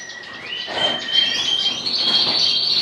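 Small birds chirp and trill continuously in an indoor bird room, a dense chorus of high tweets with a few louder calls, fairly close and without speech.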